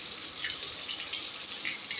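Water pouring outdoors near heavy equipment, a steady hiss and splash that runs continuously and evenly without pause, fairly close and moderately loud.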